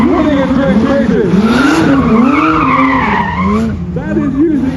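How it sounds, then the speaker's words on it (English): A supercar driven hard and sideways on the Brands Hatch track, tyres squealing in a loud, sustained, wavering howl over the engine for several seconds. "That is using all of the horsepower in that car."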